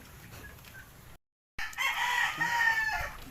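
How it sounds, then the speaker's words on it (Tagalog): A rooster crows out in the open, a drawn-out cock-a-doodle-doo at moderate distance after a brief gap of silence. "May manok. May manok."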